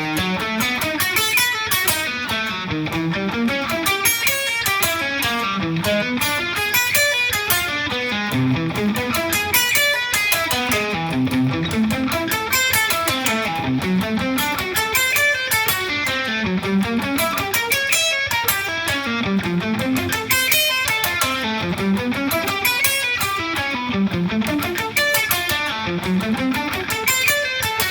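Electric guitar plays fast repeating arpeggios that shift from alternate picking to sweep picking to legato, a steady dense stream of notes rising and falling in regular waves, close and loud for the whole stretch with no talk.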